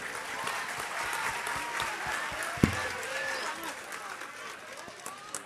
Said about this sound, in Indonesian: Tepuk tangan cinta semua untuk beliau.